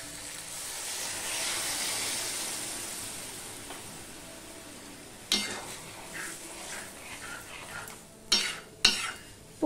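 A hot pan of poppy-seed curry with okra hisses and sizzles steadily as water goes in, easing off before a few sharp clinks of a utensil against the pan near the end.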